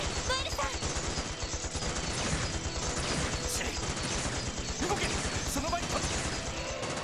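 Rapid gunfire during a shootout scene in the Trails to Azure video game, with dense overlapping shots and impacts throughout and a voice talking over the action.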